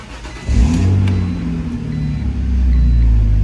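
A BMW Z4 engine cranks and catches, then settles into a deep, loud idle before rising into a rev, heard up close with no talking.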